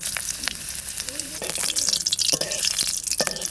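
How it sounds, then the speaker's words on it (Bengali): Dried red chillies frying in hot oil in a kadai, a loud crackling sizzle with sharp pops and spatters throughout. "শুকনো লঙ্কাটা ভেজে রেখে দেবো"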